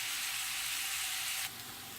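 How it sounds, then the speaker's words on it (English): Vegetables sauteing in a pan with dried thyme, salt and pepper, a continuous gentle sizzle and hiss that drops slightly in intensity partway through, no speech. "I'm also going to add a little bit of salt and pepper and saute this for a good 5 to 7"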